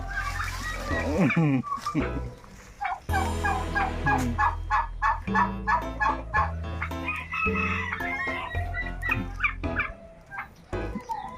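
Loud, repeated turkey gobbles up close, rattling calls in bursts mixed with other fowl calls and occasional voices in the background.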